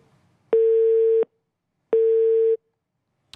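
A telephone busy tone sounds after a disconnected call, two long steady beeps of equal pitch separated by a short gap, loud and clean against near silence.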